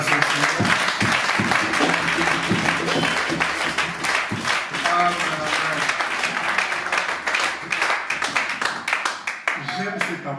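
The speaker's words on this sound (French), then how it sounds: "Donnons un peu des acclamations." Church congregation applauding and cheering loudly and continuously for about ten seconds, dense clapping filling the room with voices calling out over it.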